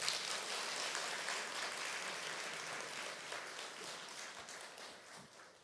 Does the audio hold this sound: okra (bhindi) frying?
no